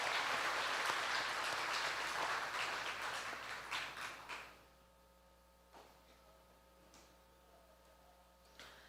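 Crowd applause for the staff at the Choctaw Nation Princess Pageant fills a large room for about four seconds, then dies away to a quiet hum with a few faint knocks and clicks.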